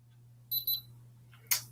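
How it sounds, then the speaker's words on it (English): A Stampin' Up hot foil machine gives two short, high-pitched beeps in quick succession over a steady low electrical hum, followed by a brief soft rustle. "The machine beeped, and then the red light went solid."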